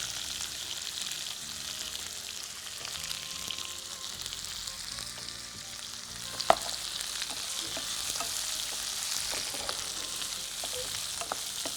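Onions sauté in hot oil with fennel seeds and curry leaves, a steady bright hiss of frying with occasional stirring scrapes and a single sharp clink of a utensil against the pan.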